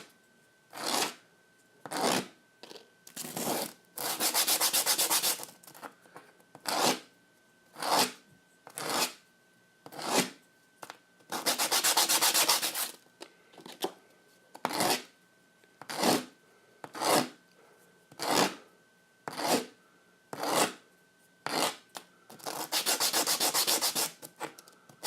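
Wooden fidget spinner buttons are sanded by hand: rhythmic, close scratchy strokes repeat steadily, broken by three longer continuous rubbing passes, with no voices.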